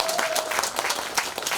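A festival crowd at an outdoor performance claps in a brief, lively burst of crisp handclaps with a faint voice underneath.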